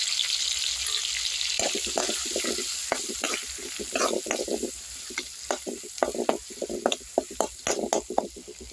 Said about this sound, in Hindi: ये मसाला इसमें डाल के मैं इसे फ्राई कर लूँगी। इसे तब तक फ्राई करूँगी जब तक ये तेल न छोड़ने लगे।